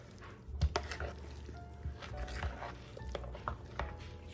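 Potato salad stirred in a bowl with a utensil, producing soft squelching scrapes and occasional light knocks against the bowl, quiet and close, with no one talking.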